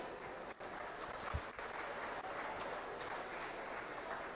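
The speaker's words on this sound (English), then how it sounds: "Let's make sure they have a nice round of applause as they exit the ring." Faint, steady applause from spectators at a swine show ring, with a few dull thuds and movement noises at a distance.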